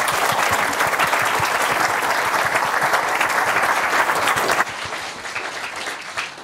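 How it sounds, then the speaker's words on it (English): Loud, dense applause from an audience at the end of a talk at a Cloud Native London tech meetup, steady for about four and a half seconds before dropping to a thinner, quieter patter. "Okay, round of applause, please."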